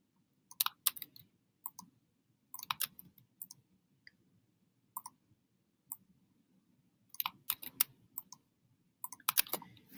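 Typing on a computer keyboard while entering spreadsheet data, quiet close clicks arriving in irregular bursts and short runs with pauses between, no voices.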